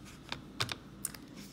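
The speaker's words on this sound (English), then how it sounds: "on my calculator, this is what I am typing into my calculator." Several short plastic key presses on a calculator keypad, clicking in an uneven rhythm of about five taps, quiet and close with no talking.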